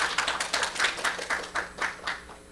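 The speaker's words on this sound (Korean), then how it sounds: "박수로 맞이해 주세요." Audience clapping to welcome the opening speaker at an ESG forum seminar in a hotel, a modest group giving fairly loud, distinct rhythmic claps that pulse steadily, with no talking over them.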